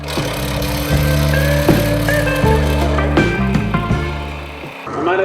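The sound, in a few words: Forstner bit boring into wood on a lathe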